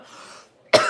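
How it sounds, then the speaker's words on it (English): A single sharp, loud cough bursts out near the end after a brief stretch of faint vocal sound, close to the mic. "Sorry guys, coughing."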